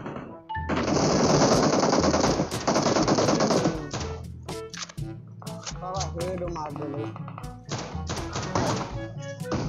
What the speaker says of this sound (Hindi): बाप रे, इतना जोर से शॉट गन लगता है जब